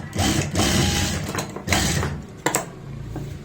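A sewing machine stitches a boat-neck kurti, running in short bursts of fast rattling stitches separated by brief pauses and a few sharp clicks, close up with no talk.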